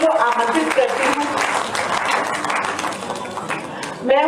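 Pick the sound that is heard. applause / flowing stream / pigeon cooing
applause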